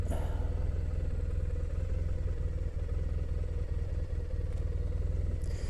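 Triumph Thruxton motorcycle moving at low speed, its engine a steady low rumble with faint clatter, heard continuously and fairly close.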